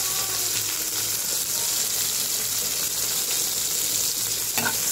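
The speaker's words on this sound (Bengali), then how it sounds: "সুন্দর করে লাল করে ভেজে নিতে হবে, নইলে মাছের ঝোলটা কিন্তু তিতো লাগবে।" Fish frying in a generous amount of oil for a Bengali fish curry, giving a steady, close, loud sizzle and crackle throughout with no one talking.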